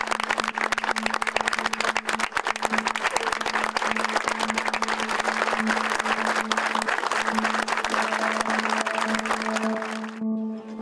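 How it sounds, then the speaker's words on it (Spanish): A crowd at a memorial protest for a slain young man claps in sustained, dense applause that carries on for several seconds before thinning out at the end, with a faint tone running underneath. "Un aplauso."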